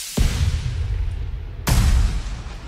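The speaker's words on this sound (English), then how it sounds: "fireworks" Two fireworks explode as deep booms about one and a half seconds apart, each a sharp, loud crack that trails into a long, rumbling decay, with no voices.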